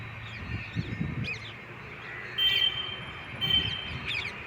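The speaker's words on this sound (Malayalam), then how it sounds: "കിളികൾ, മയിലുകളൊക്കെ ഉണ്ട് അവിടെ." Outdoor birdsong in a Tamil Nadu setting with peacocks around: scattered high chirps and a few sharp calls over a steady low ambient rumble, moderately distant.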